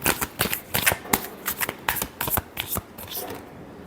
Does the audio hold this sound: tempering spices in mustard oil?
no